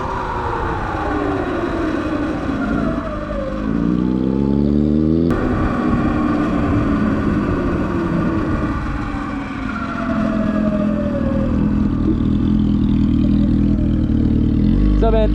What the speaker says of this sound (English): Looks like another motorcycle.